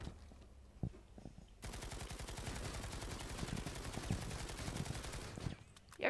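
Rapid automatic gunfire in the Planetside 2 video game, a loud sustained burst of dense shots lasting several seconds after a single earlier shot, then cutting off abruptly.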